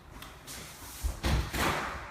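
A door to a separate toilet room in a newly built house swings shut, a few soft thumps and a heavier close landing about halfway through, heard alone in a quiet room.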